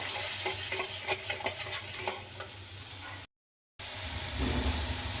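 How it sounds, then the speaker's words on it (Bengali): Spice paste stirred into pointed gourd (potol) frying in a pan, a steady sizzle with scraping strokes, close and fairly loud, cut by a brief full silence before the frying noise resumes; nobody speaks. "এবার আমি দিয়ে দিচ্ছি বাটিতে যে মশলা পেস্টটা তৈরি করে রেখেছিলাম। দিয়ে নিয়ে নাড়িয়ে নেব।"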